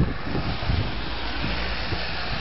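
Wind buffeting a microphone outdoors on a cold, wet day at an autotest venue, a steady low rushing roar with no talk.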